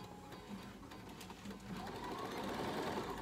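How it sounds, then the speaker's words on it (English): A Bernina 7, 5 or 4 series sewing machine runs again after a jam is cleared, its rapid rhythmic stitching whir close and steady, growing a little louder partway through. "I will go ahead and try to continue sewing."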